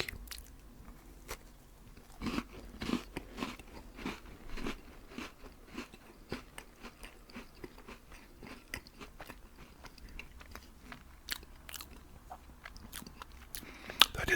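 Crispy, chewy, crunchy cookies being bitten and chewed up close, with repeated sharp crunches and softer chewing at an irregular pace and a low, quiet level.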